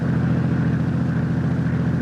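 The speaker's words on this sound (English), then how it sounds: "Sam, look out! That truck!" In a radio drama, a steady, loud truck engine drones and rumbles low, holding an even pitch throughout, with no voices over it.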